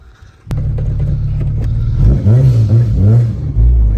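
A supercharged Honda Civic Si sleeper making about 400 wheel horsepower revs loudly up close, a steady low engine drone swelling into rising rev sweeps with faint supercharger whine.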